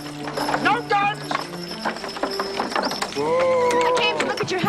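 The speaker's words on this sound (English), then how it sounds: "We wanted the horses, Ivar?" Horses clip-clop steadily along a rough road in a 1992 period drama, with repeated close neighs and whinnies over the hooves while people speak throughout.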